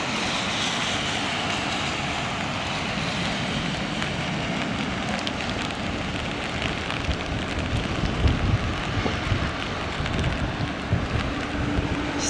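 Pratt & Whitney jet engines roar as an aircraft lands on a wet runway at London Heathrow, a loud, steady wash of engine noise and spray lasting throughout, with no voices.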